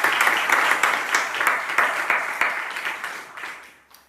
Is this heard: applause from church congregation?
yes